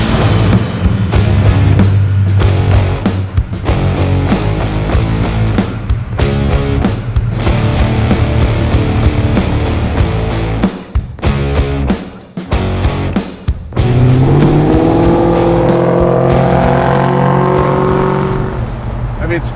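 A 730 hp supercharged LS9 V8 in a 1969 Camaro restomod rumbles loudly and steadily while driving, with brief drops and a rising rev near the end; voices talk over it.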